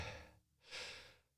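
Slow, deep breathing during meditation: a long soft exhale, a brief pause, then a fuller inhale, close and quiet, with no talking.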